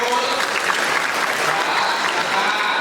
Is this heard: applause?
yes